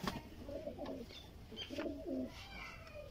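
A female Sialkoti pigeon coos in soft, repeated low bursts close by, with quiet pauses between calls and faint background noise.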